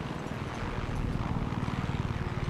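A helicopter flying overhead in the video game Far Cry 6 makes a loud, dense rotor drone with a rapid rhythmic chop that strengthens over the short span.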